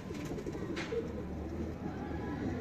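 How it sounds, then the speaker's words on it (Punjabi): A large pigeon coos softly and close by, low throaty calls over faint background noise. "ਇਹ ਵੀ ਦੇਖੋ ਜੀ ਵੱਡੇ ਕਬੂਤਰ ਦਾ ਪੱਠਾ ਜੀ।"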